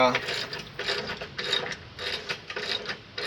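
Hardware on a basketball hoop rim fitted with dunking springs is being tightened, giving repeated rhythmic ratcheting clicks in short bursts, close and fairly loud with no talking.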